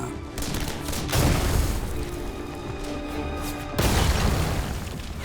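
Two heavy blasts of a stick grenade about two and a half seconds apart, each a broad roaring burst trailing into rumbling debris noise, with a constant low din in between.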